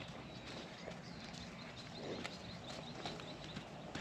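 A cow on a farm walks past nearby, its hooves making irregular soft clops over steady outdoor noise, with faint bird calls.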